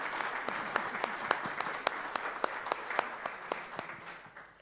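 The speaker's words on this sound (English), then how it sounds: "everybody here should applaud themselves for who they are" A church congregation applauds at a Sunday celebration service, a dense, steady clapping from many hands filling the room for several seconds before it begins to thin out.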